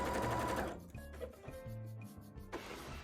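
A sewing machine stitches a bra, its rapid motor buzz running in short bursts separated by pauses and small clicks of handling, close up and fairly quiet.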